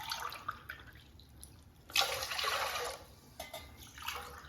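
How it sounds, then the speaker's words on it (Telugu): Water poured from a glass into a pressure cooker holding rice, a soft splashing gush that swells for about a second in a quiet kitchen, with a few fainter trickles after it. "4 గ్లాసుల నీళ్ళు పోస్తున్నా."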